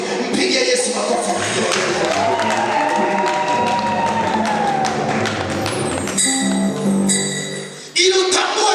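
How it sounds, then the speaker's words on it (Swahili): A church congregation at a revival prayer service claps together for Jesus, a dense, steady wash of hand claps and cheering that fills the room, with a sustained voiced tone running underneath. "Mpigie Yesu makofi."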